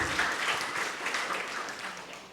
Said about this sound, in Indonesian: Yang mau berikan tepuk tangan buat Tuhan kita